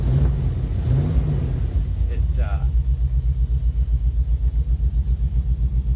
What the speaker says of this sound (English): old car don't sound too bad.